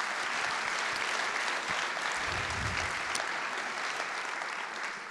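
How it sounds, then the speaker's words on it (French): Applause from an audience at a literary event's closing speech in Pau, a dense, steady clapping that fills the hall for about five seconds. "ça aussi, ça mérite des applaudissements"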